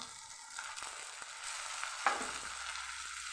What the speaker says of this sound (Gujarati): તો અહીંયા આપણે હવે ટમેટાને ઉમેરી દઈશું